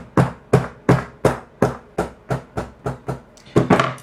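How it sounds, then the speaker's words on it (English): A hammer strikes the metal-bodied optical block of a Polaroid SX-70 camera lens in about a dozen sharp, close, evenly spaced taps. A quicker double tap comes near the end, with no talking. "Not often you use a hammer for refurbishing cameras."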